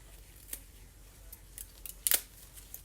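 Scissors snip rubber bands off a folded coffee filter in a paint and alcohol ink craft session: a few faint, close cuts, then one sharper, brighter snip near the end, with no talk.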